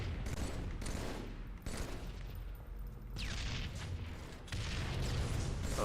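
Gunfire in a Halo: The Master Chief Collection match: dense, loud, continuous bursts of shots and booms fill the whole stretch, with a few sharper cracks standing out and no clear voice.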